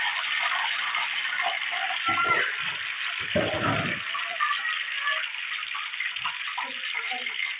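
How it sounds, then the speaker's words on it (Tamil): Curry leaves rinsed in water at home while making a spicy bakery-style mixture snack: a steady, close rush of running water throughout, with a few brief low knocks and faint voice murmurs beneath. "கருவேப்பிலை எடுத்து சுத்தமாக தண்ணியில் கழுவி"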